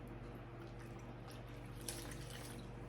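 Tap water runs steadily into a sink for face washing during a skincare routine, a faint, continuous trickle over a low background hum.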